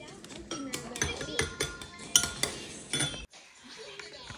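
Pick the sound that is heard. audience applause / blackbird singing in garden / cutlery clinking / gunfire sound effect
cutlery clinking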